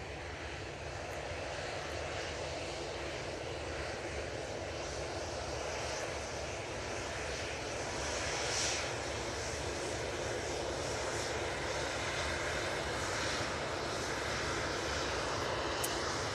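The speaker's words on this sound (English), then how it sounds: "I think that was waiting just for this EasyJet to touch down" An EasyJet airliner touches down at Manchester Airport, its engines a steady, distant broad roar that holds evenly throughout with no voices.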